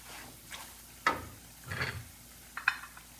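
Fresh turmeric and chili pickle being stirred and mixed in a bowl, a few soft scraping and clinking strokes spaced apart, quiet and close.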